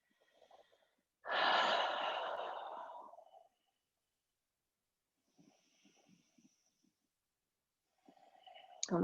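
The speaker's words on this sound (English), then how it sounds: "Take some deep breaths here." One long, deep breath rushes out loudly and close during a yoga hip-opening stretch, then fades into quiet with a few faint soft rustles and a short breathy sound at the end.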